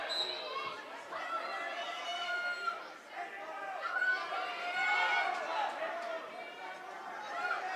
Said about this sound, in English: The North Hunterdon crowd did not like that call.